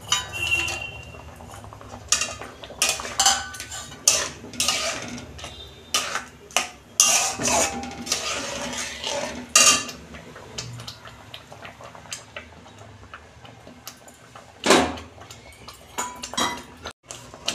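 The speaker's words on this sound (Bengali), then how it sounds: "এই যে কাজু কিশমিশটা দিয়ে দিচ্ছি।" Cashews and raisins dropped into semolina halwa in a pan, heard as scattered clinks and taps of a spoon against metal cookware, irregular and close, with quiet gaps between.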